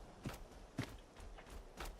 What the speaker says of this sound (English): I was wondering, where do I hear the footsteps?